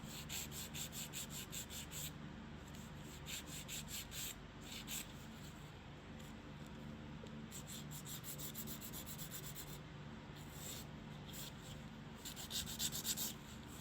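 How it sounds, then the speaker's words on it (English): An electric nail file buffs the cuticle area during a dual-form nail extension, giving a steady, close, quiet whirring rub with short bursts of grinding as the bit meets the nail. "Refine the cuticle area using an electric file."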